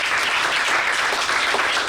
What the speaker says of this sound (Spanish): Quiero que recibamos con un fuerte aplauso a nuestros dos invitados.